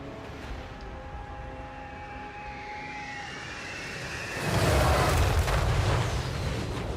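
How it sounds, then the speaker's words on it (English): Artillery barrages pounding a gatehouse in Total War Warhammer III, a low rumbling battle din with whistling tones that swells into a heavy booming roar in the second half, no voices. "I think 2 or 3 more barrages and the gatehouse is destroyed."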